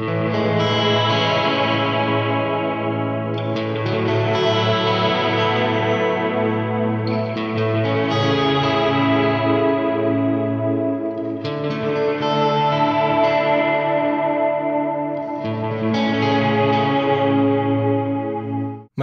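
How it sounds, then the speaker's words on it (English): Electric guitar played through a Line 6 POD Go delay set to quarter-note sync, with repeats at quarter- and eighth-note spacing; sustained, slightly distorted chords ring loud and alone, with smeared echoes and reverb trailing each strum. "we will hear a quarter note and an eighth note in the repeats"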